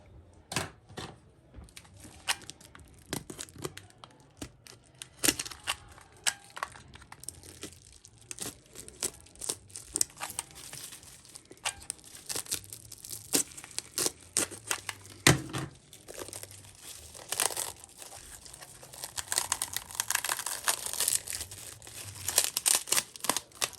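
Plastic and cardboard packaging around a shipment of Venus flytraps is cut and torn open close up, a long run of dense crinkling, ripping and snipping with scattered sharp crackles and no talking.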